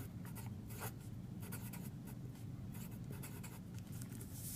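A pen scratches steadily across paper as a chemical formula and name for a chromium and sulfur compound are written out, with close, continuous strokes and short pauses and no talking.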